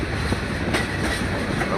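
A train rolls along the rail track with a loud, steady rumble and faint rhythmic clatter, heard close from on board.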